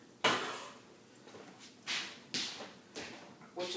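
A big cooking pot set onto a stove: several close metallic knocks and clunks spaced a second or so apart, fairly quiet, over faint background.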